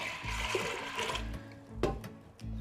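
Water pours steadily into a pressure cooker holding soaked lentils for daal makhani, a continuous gushing splash heard up close with no talking.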